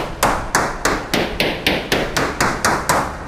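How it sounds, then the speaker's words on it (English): A hammer strikes repeatedly while prying open a bedroom wall, about ten sharp, evenly spaced blows close by, each a crisp crack with a short decay. "I grabbed a hammer from my toolkit, pulled the bed away, and began to pry open the wall"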